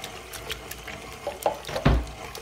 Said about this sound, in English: What you can then do then is pour off the buttermilk.